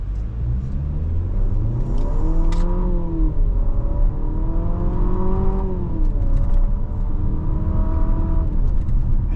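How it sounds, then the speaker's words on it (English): Infiniti QX60 VC Turbo four-cylinder engine revving hard under paddle-shifted acceleration in Sport manual mode, a loud continuous rising and falling drone with several sweeping rev climbs as gears change, heard alone with no talk. "with this VC Turbo 4, you gotta wait for the turbos to spool up"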